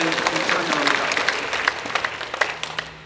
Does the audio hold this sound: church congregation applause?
yes